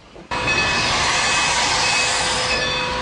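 Historic Heber Valley Railroad steam train running, a loud continuous roar of rolling rail noise with high squealing tones that starts abruptly after a brief quiet moment and holds steady to the end.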